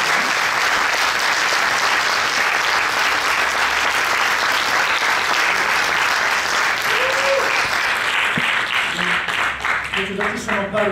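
Sustained audience applause for a guest at a documentary film festival Q&A session, loud and steady throughout, easing near the end as a few separate claps and a voice emerge.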